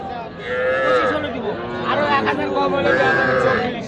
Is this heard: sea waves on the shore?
no